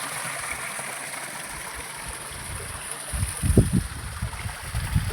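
Forest stream near a waterfall, water flowing steadily as a continuous broadband rush, with louder splashing, gurgling bursts toward the end; no voices.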